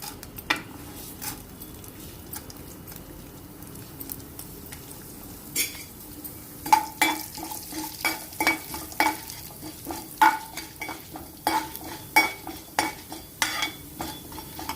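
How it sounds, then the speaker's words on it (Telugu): Urad dal sizzles in hot oil for curry leaf spice powder, with a constant low frying hiss under frequent sharp clinks and scrapes of a spoon stirring against the pan. The stirring grows busier and louder in the second half. "ఆయిల్ వేడైందండి. ముందుగా మినపప్పు వేస్తున్నాను."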